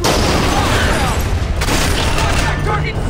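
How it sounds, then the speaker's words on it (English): Grenade blast in the video game Splinter Cell Conviction, a loud, dense burst of booming noise and rattling gunfire that fills the whole stretch, with shouted voices mixed in. "Grenade! Take cover!"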